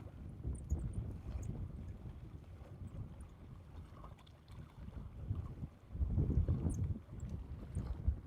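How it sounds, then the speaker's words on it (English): A small rental boat motoring somewhere out on a lake, a low distant engine rumble with wind buffeting the microphone, swelling louder for a stretch near the end. "I hear a little rental boat somewhere."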